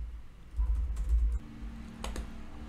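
Light, scattered keystrokes on a computer keyboard while a phone number is entered into an online form, quiet and close, under a low background hum.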